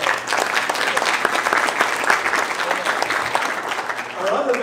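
An audience claps at a Modeling and Simulation Hall of Fame awards ceremony: dense, sustained applause from a crowd that holds steady for several seconds, then dips briefly and picks up again near the end.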